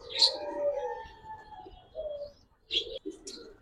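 A single silver pigeon offered for sale at a market gives a few soft coos in short bursts, with pauses between and a faint voice nearby.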